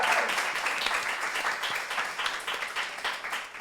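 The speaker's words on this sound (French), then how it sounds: "On peut applaudir Laura, s'il vous plaît, pour les trophées." An awards-show audience applauds trophy winners at the 2023 TikTok F1 Awards, with steady, dense clapping that carries through the whole stretch at an even level and only slightly thins toward the end.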